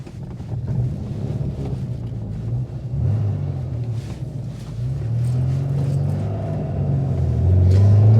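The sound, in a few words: Rover P6 2000TC engine accelerating through the gears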